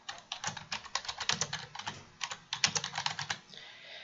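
Fast, steady typing on a computer keyboard, with crisp close key clicks in quick irregular bursts and a brief pause near the end.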